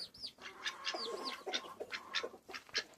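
A rooster and hens on a farm give a string of short clucks and squawky calls, several birds close by, overlapping in quick uneven bursts with no talk.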